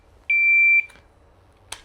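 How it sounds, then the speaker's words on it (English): A single sustained electronic beep of about half a second from an AxisFlying Manta 5 SE V2 drone's electronics, clear and close, followed by a couple of faint clicks. "It's going to keep beeping."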